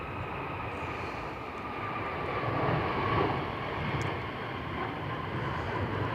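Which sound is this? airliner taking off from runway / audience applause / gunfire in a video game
airliner taking off from runway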